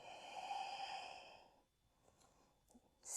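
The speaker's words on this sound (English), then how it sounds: "Steady exhale." During a yoga session, one slow, steady exhale is heard up close as a soft, airy breath lasting about a second and a half, then fading to quiet.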